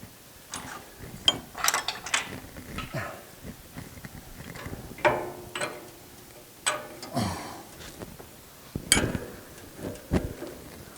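Tightening a bolt on a Grizzly 14-inch Extreme Series band saw's 6-inch extension: close, irregular metallic clicks and ratcheting taps scattered through the clip, with handling knocks and no speech.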